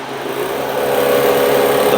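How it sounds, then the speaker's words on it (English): A HarvestRight freeze dryer's vacuum pump starting up, a steady mechanical whirring hum that swells slightly louder and holds constant, close and loud, with no voices. "the pump turned on"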